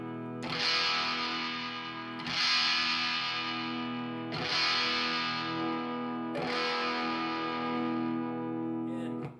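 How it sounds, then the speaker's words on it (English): Four distorted electric guitar chords through an Orange amp ring out one after another, each sustaining and slowly decaying while the tone knob is swept, gradually shifting the brightness. "I'll sweep it while I'm holding a chord just so you can hear the range of tones here"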